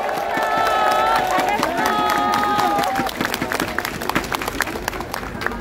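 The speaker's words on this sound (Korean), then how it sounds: "앞서 연설해준 두 명의 청년에게 우리 큰 격려의 박수 한번 보내주십시오." An outdoor crowd at a Seoul mayoral campaign speech in Sinchon claps and cheers loudly, with voices rising over the noise at first and then giving way to a busy field of sharp handclaps.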